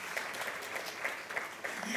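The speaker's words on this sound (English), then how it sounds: "big round of applause for Judy" A gala audience at a Camden Black Workers Group 40th anniversary celebration claps briefly, a soft, dense patter of applause with a few louder individual claps, fairly faint and far.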